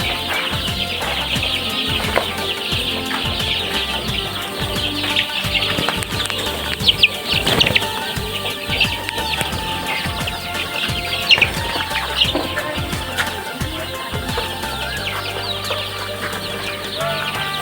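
A flock of 18-day-old layer chicks cheeps and clucks constantly while running about a farm shed, busy overlapping peeps filling the space with a few louder calls standing out.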